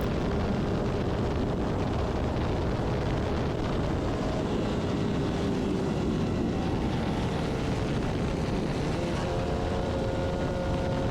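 A Formula Vee race car at Lime Rock Park runs hard on track, its engine note rising briefly in pitch as the rear end gets loose and lifts, under steady wind and road roar with no talk.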